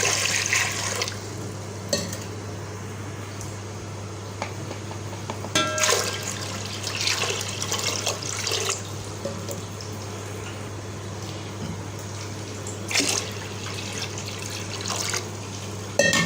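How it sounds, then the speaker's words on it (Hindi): Water poured into a large cooking pot on a gas flame, about three kilograms for a Punjabi salted beef dish, in splashing bursts with quieter gaps in between under a steady low hum. "अब हम इसके अंदर डाल लेंगे पानी।"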